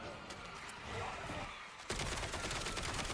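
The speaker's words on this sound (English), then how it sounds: "I'm leveling up the burst pistols" Burst pistols fire in a multiplayer shooter video game, sounding as rapid clustered shots. The firing starts faint and becomes louder and denser partway through, mixed with game noise and some talk.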